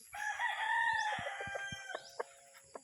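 A rooster crows loudly and close at a small backyard chicken farm, one long drawn-out call overlapping another, followed by scattered clucks from the hens.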